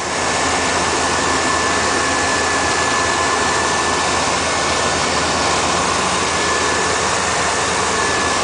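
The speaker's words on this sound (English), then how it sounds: "let's listen to the motor. Motor's nice and quiet." A GMC dually pickup truck engine idles on a cold day, producing a steady, even broadband rumble and hiss that stays constant throughout with no talking.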